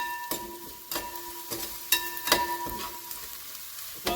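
Beef pieces fry in a pan for dry meat, giving a steady close sizzle broken by sharp crackles and pops every half second or so, with no voices.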